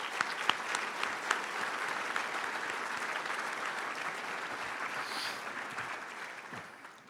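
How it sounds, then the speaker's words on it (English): A parent audience at a senior breakfast claps for the students: steady, dense applause that starts with a few sharp claps and fades out at the end. "I think our parents should give our students a round of applause for that"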